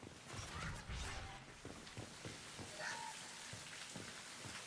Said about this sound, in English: That gets rain sound and fireworks sound in the back.